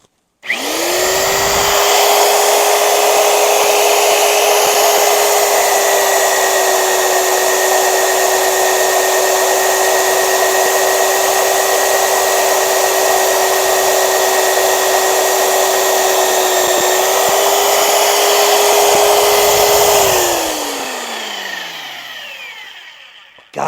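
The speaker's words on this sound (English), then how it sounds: "So I'm going to get these holes drilled." A drill bores holes in a steel welding table, its loud motor running in a steady, even whine for about twenty seconds before winding down at the end.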